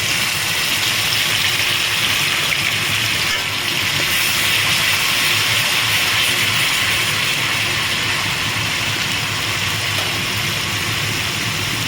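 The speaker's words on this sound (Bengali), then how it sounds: "এবারে আমি 4 টেবিল স্পুন পেঁয়াজ বাটা দিচ্ছি এতে" Four tablespoons of onion paste sizzle in hot oil with tempering spices, a dense, steady frying crackle that stays constant and close throughout, with no voice over it.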